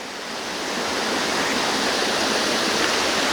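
Water pouring over a drop above White Oak Falls, a broad, steady roar that builds slightly in the first second and then holds constant and close, with nothing else heard over it.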